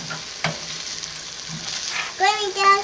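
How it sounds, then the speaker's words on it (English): Chicken and sausage risotto rice stirred in a pan with liquid, a soft steady sizzle marked by a few scraping strokes, then a voice chimes in near the end. "I'm stirring it just, and I'll wait another minute"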